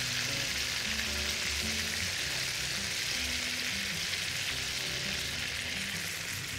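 Fish sizzles in olive oil in a frying pan: a steady, close, dense crackling hiss that holds evenly throughout, with no talking.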